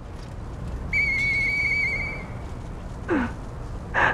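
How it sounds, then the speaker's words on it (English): In the video game Lies of P, a single long, clear whistle rings out and holds steady for over a second. A shorter rising whistle follows later, then a brief high warble at the end. "I know that whistle."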